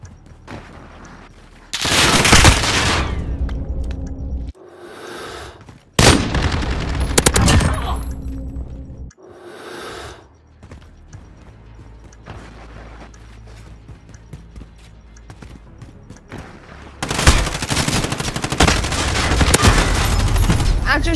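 Dense bursts of automatic gunfire from Call of Duty: Modern Warfare rattle in loud sustained volleys, broken by shorter gaps and scattered single shots, with a long heavy burst near the end.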